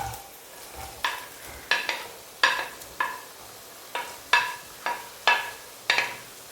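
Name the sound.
chopped onion frying in hot coconut oil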